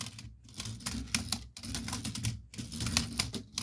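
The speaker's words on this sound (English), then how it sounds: "this thing spins and hits the top and rinse and repeat. And it sounds really weird or great" A LEGO Batman Joker trike rolled back and forth, an internal part spinning and striking the top: rapid irregular plastic clicking and rattling, faint and close, with no talking.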